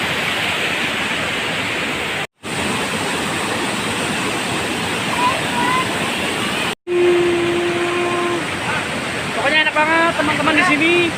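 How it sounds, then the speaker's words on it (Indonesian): A waterfall at Leuwi Ceupet pours in a steady, loud rush of broadband water noise that is cut by two brief gaps, with faint voices and short tonal sounds toward the end. "Ini curugnya nggak tahu curug apa, air terjun apa, yang penting enak."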